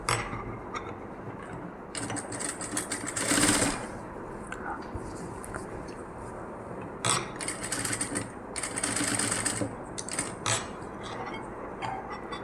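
Sewing machine double-stitching the shoulder seam of a nighty, running in several bursts of rattling, ratcheting mechanical whir separated by brief pauses, fairly close and loud.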